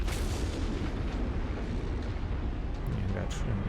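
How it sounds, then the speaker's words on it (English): Deep, rumbling mech reactor explosion in the MechWarrior game, a dense sustained roar of blast and debris filling the whole span, loud and close with no clear break. "that's a reactor explosion"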